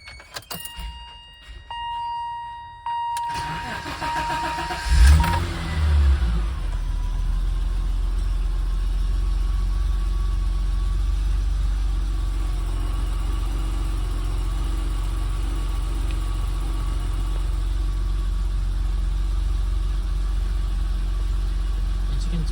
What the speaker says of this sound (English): And I'm going to go ahead to start up the engine.